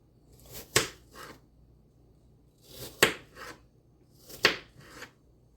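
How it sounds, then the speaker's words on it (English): Knife slicing through an apple on a cutting board: three close, crisp crunching cuts, each a sharp slice followed by a softer scrape, evenly spaced with quiet gaps between. "slicing up your apple"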